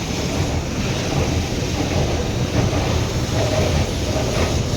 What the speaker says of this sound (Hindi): मक्के में आज हवा चल रही है।